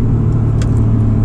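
An Acura NSX driven hard, its engine giving a steady, loud mid-range drone under cabin rumble, with a brief brighter flare partway through the short stretch.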